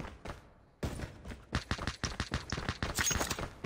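Gunfire crackles through a shooter video game in rapid bursts and single shots, loud and close, fading in after a quiet start and thickening toward the end.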